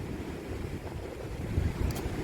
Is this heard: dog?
no